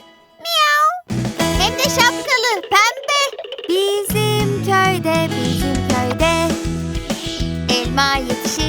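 Cartoonish meows open a bouncy children's song, with a child singing over cheerful music and further meow-like sounds.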